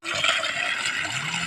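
Water gushes from a 2.5-inch pipe fed by a VTECH submersible borewell pump, a steady, loud rushing flow with no talk.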